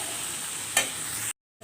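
Vegetable bhaji is stirred in a pan as it fries, giving a steady close sizzle with one brief louder scrape near the end before the sound cuts out.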